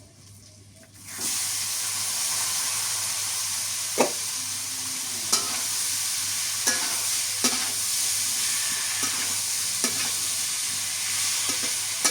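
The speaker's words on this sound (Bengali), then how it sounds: "শাক ভাজি হয়ে গেছে" Steady loud sizzling of radish greens frying in a hot pan, with several sharp scrapes and clanks of a spatula stirring, no voices.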